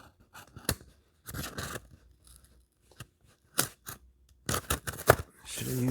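An X-Acto blade cuts through packaging in short scraping bursts of varied length separated by quiet gaps, close up and fairly faint, with a rustle of material toward the end.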